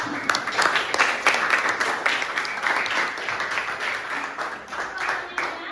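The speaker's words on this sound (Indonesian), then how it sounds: "tepuk tangan dulu untuk temannya" A group of elementary pupils applauds a classmate in an Indonesian classroom, with a dense patter of many hands clapping steadily for several seconds, close and moderately loud.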